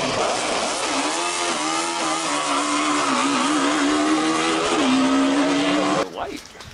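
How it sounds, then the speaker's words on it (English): A Ford Focus RS engine idles and runs with no exhaust system fitted, a loud, raw, steady drone with slight pitch swells before it cuts off abruptly near the end. "gonna fire it up without any exhaust at all"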